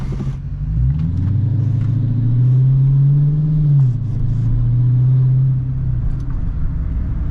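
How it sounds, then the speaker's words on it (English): A Dodge Charger's engine rumbles deep and loud up close, rising once into a sustained rev that holds before easing back to a heavy idle. "Give it like 2 good revs, maybe 3."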